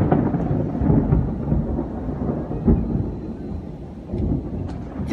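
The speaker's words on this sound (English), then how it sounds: "That was the loudest thunder I've ever freaking heard." A deep, rolling rumble of thunder with rain in the background, steady and heavy, with a sharper crack partway through.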